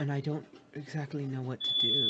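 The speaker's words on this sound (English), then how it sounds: "Sorry, the fire alarm." A fire alarm sounds a single steady high beep near the end, following continuous speech from several voices.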